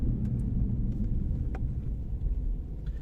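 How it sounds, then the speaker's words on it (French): BMW M3 from 1992 with its engine and exhaust switched into M mode, a steady deep low rumble and drone heard from close by, alone with no talk over it. "Le bruit est intensifié, je trouve, au niveau de l'échappement."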